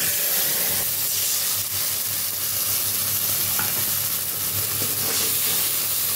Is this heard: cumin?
yes